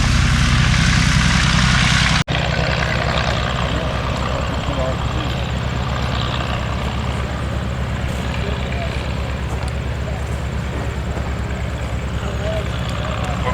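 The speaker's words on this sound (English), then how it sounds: "Old Rhinebeck 1918 Fokker D VII, original Mercedes aircraft engine on this aircraft." A 1918 Fokker D VII biplane's original Mercedes piston engine idles steadily with a deep, throbbing rumble after a sharp click, running loud and close throughout at an aerodrome.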